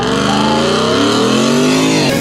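A supercharged Ford F-150 and an extended range Ford Lightning launch in a drag race, a loud close engine roar rising steadily in pitch as it accelerates hard, with no voices over it.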